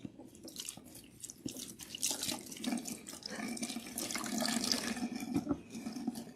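Running water rinses a protein treatment out of natural hair at a sink, a steady splashing flow with varying spatter that builds slightly louder toward the end, heard alone without talk.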